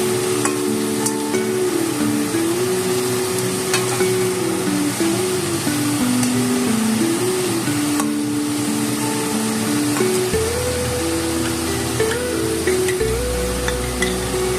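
Spicy-sour Rajasthani karela with mango and chillies gets stirred in a pan, a continuous scraping stir over a soft sizzle, accompanied by a steady tonal hum from a nearby appliance.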